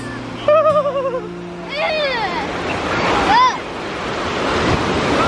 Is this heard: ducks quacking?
no